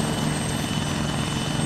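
A helicopter running close by, its engine and rotor making a loud, continuous, unbroken drone throughout.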